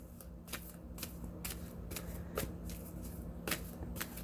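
Tarot cards being riffled and shuffled by hand, a run of quick crisp flutters in close succession, soft and close with no talking.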